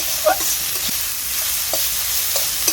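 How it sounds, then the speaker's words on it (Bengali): Dhenki fern greens fry in a pan with a steady close sizzle, punctuated by a few soft stirring scrapes; no one speaks. "শাকটাকে আমি ভালো করে এবার ভাজতে থাকবো"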